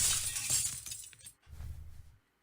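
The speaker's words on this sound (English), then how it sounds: "Sorry, I broke a dish." A dish shatters in the video game Wizard of White Box, a loud burst of breaking crockery that tapers into tinkling fragments, then a second, softer clatter before silence.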